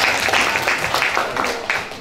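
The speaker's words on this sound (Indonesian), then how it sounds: "tepuk tangan buat kalian semua" Children applaud together in a school counselling session, brisk overlapping clapping with a few uneven surges, close and fairly loud throughout the short burst.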